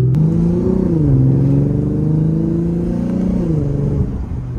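A Lexus RC350 fitted with a new axle-back exhaust revs up in repeated swells over a steady deep rumble, its tone rising and falling smoothly, close and loud, with no talking.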